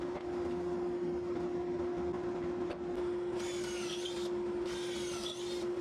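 A steady motor whine from a power drill runs throughout, with two bursts of higher-pitched grinding as the bit bores pocket holes into the ends of wooden boards.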